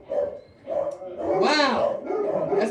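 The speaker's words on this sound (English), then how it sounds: "We got dogs barking and everything." Dogs barking in the background of a live sports talk show recording, with yips and whimpering mixed among the barks under continuous conversation.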